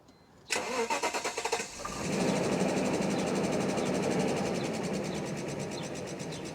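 A running-poorly car engine cranks in a rapid stuttering burst, catches, and settles into a steady, close rumbling idle that runs on alone, now running better.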